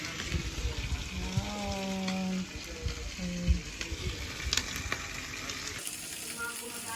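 Seafood sizzling on a mookata grill at a home Thai barbecue, a steady loud frying hiss with brief tonal whistles and clinks, close by, with faint talk in the background.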